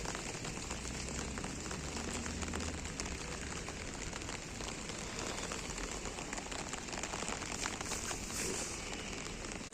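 Heavy rain patters densely on a surface at an outdoor market in Ukraine, a constant hissing wash of drops with no pauses, fairly faint and even throughout.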